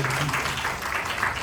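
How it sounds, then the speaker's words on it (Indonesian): Church congregation applauding during a sermon, a dense steady wash of clapping that holds at an even level for the short stretch. "Beri tepuk tangan yang meriah."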